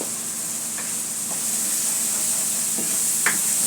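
Pasta being stirred in a pan with salt and turmeric, a steady sizzling hiss with a few soft scraping strokes of the spoon, close and continuous, no talking.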